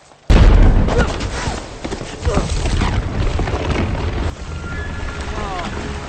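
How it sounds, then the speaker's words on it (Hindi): Gunfire erupts in a Hindi-dubbed Hollywood action movie scene: a sudden loud bang followed by several seconds of dense, noisy shooting and rumble that drops off near the end, with a voice briefly heard. "हम पर गोलियां चल रही हैं।"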